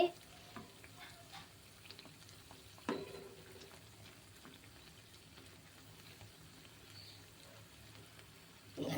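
Dry fruits fry in ghee for a bread halwa, making a soft, quiet sizzle with occasional spoon scrapes and clinks against the pan. A louder clatter comes near the start and again near the end, with no talking.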